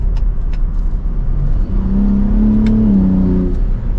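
A 2023 Ford F-150 Raptor pickup with the 3.5-liter engine and exhaust in quiet mode accelerates with a low, rising exhaust drone that swells through the middle and holds steady, with a few faint clicks above.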